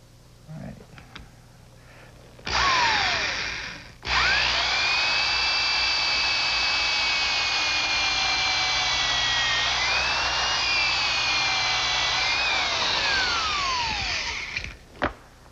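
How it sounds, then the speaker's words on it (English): A power drill whirs loudly and close for about twelve seconds, pre-drilling a screw hole in wood, its motor pitch dipping and recovering under load before it stops. "going to pre-drill for a screw"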